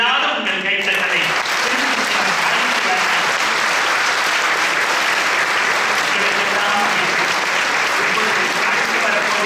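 Sustained audience applause at a Tamil Thirukural event fills the hall, a dense, steady wash of clapping from many hands that carries on loudly and evenly throughout, with no break or pause.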